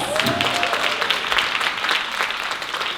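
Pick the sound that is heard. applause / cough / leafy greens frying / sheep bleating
applause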